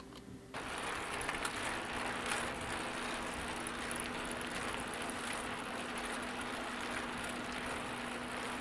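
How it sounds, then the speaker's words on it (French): Steady background bed of a bicycle rolling over cobblestones, a continuous rattling, clicking mechanical texture with a faint hum, starting abruptly after a brief moment and holding at an even level throughout. "ce serait de mettre un bruit de fond d'un vélo, dans le fond, sur un pavé"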